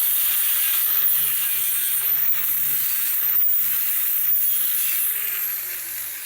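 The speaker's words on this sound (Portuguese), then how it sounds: "Antes de pôr um sobre o outro, eu vou dar uma esmerilhada." An angle grinder cleaning a weld on steel for a small home garden bed frame, a steady, close, harsh hiss with slight pitch wavers from start to finish, slowly fading at the end.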